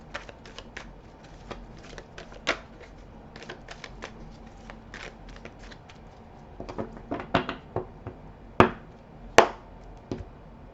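A tarot card deck being shuffled and cut, heard alone as a long run of crisp riffling taps that thicken into louder, sharper slaps toward the end.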